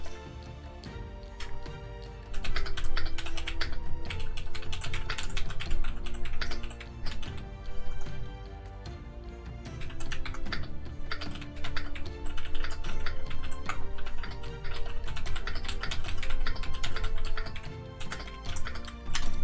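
Close, loud typing on a computer keyboard during a RAID Shadow Legends arena session, coming in rapid bursts of keystrokes separated by short pauses, with no talking.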